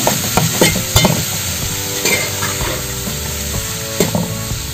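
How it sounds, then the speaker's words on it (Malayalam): Ivy gourd stir-fry being stirred in a hot pan, a loud continuous sizzle with a few scraping utensil strokes against the metal near the start and end, close up and without voices. "നന്നായി ഇളക്കി"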